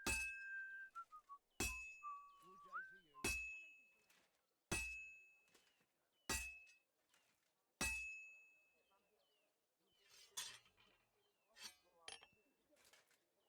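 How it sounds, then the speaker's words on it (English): A blacksmith hammers metal on an anvil at a forge in Kingdom Come Deliverance 2: six loud, evenly spaced ringing clangs, each decaying with a bright metallic tone, then quicker, fainter taps. "Just keep hammering."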